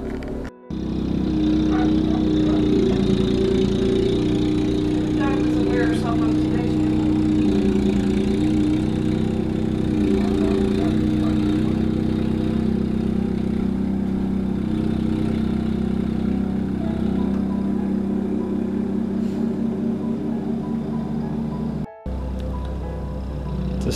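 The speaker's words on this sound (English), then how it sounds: "That, ladies and gentlemen, is why you invest in a snowblower." A snowblower runs steadily through deep snow, its engine a loud, close, continuous drone with a low rumbling throb that barely changes, briefly dropping out near the end before resuming.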